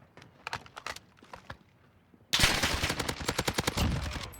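Gunfire rings out in a shooter video game as the player aims and fires, a few sparse shots at first, then a sudden sustained burst of rapid automatic fire, loud and dense, running to the end.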